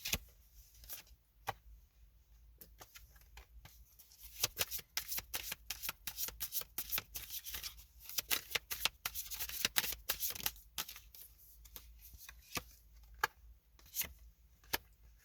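Tarot deck being shuffled by hand, a long run of soft papery riffles and flicks, quick and irregular, close up and quiet with no talking.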